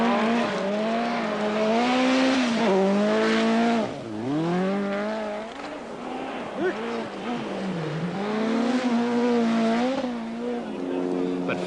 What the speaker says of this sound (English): it was Blomqvist, the 7 times winner of the Swedish, first down the frozen roads in the new RS 200